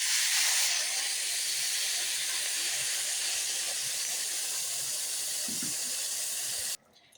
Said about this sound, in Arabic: هنزل بقى بالميه المغليه